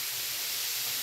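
Food sizzles in a hot pan, a steady broad hiss without pause for the whole short stretch.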